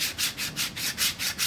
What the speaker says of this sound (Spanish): esta lija 50 nada más la utilizo para rebajarla un poquito